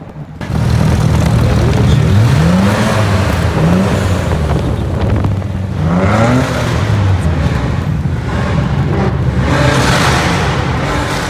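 Cars from a Malaysian car club roll past one after another, engines revving and rising in pitch, a continuous loud motor roar throughout with no talking.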